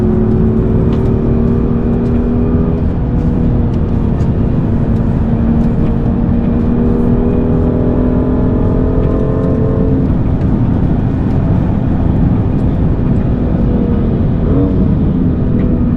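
BMW M2 NLS version race car engine accelerating on the Nürburgring Nordschleife, a loud continuous in-car roar with rising and falling rev tones throughout.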